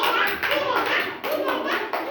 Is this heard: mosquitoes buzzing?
no